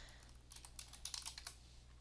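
A name typed into a timesheet search field on a computer keyboard, a short burst of soft, fairly faint key taps in the middle of the stretch against a quiet background hum, no talking.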